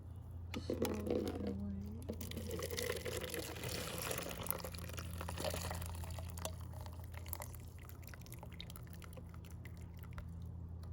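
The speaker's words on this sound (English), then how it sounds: "I like to rinse my tea." Water poured over loose tea leaves to rinse them gives soft trickling, splashing and dripping that runs continuously at low level, close by, with faint background hum.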